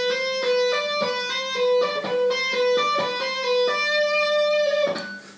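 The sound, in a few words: guitar playing a four-note fragment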